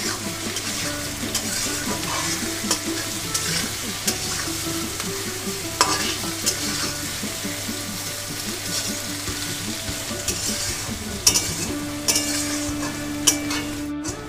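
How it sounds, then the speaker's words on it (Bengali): Sliced onions with salt sautéing in a pan over a low-medium gas flame, a steady close sizzle broken by repeated scraping and stirring of a spatula, with occasional metallic knocks. "গ্যাসের ফ্লেমটাকে লো টু মিডিয়ামে রেখে আমি 3 মিনিট পর্যন্ত এই পেঁয়াজটাকে একটু নরম করে নিয়েছি।"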